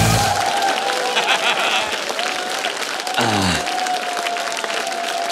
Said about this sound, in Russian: Под ваши аплодисменты я приглашаю на очередное юмористическое свидание Владимира Зеленского и Евгения Кашевого.